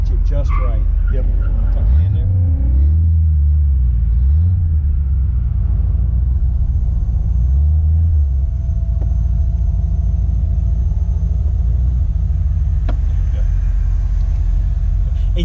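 A Foxbody car on an autocross course, a deep steady engine rumble that swells and falls as it accelerates and brakes, heard from inside the car with people talking over it.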